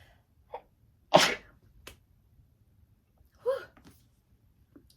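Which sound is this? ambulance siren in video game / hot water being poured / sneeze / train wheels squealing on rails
sneeze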